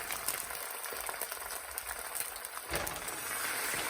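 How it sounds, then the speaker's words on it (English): Hot vegetable oil sizzles in a frying pan with food, a steady crackling hiss broken by a brief scrape of stirring near the end. "Always a nice sound, that sizzle."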